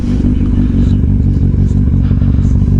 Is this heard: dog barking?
no